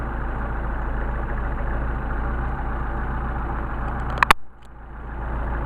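A car engine with a Solex carburetor idles at a steady low throb near 700 RPM during mixture tuning, then a sharp metallic clack cuts in and the idle dips briefly before recovering.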